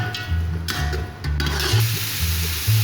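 Capsicum and green onion frying lightly in a pan, a soft sizzle under repeated rhythmic scraping and stirring of the spatula against the pan, close and moderately loud.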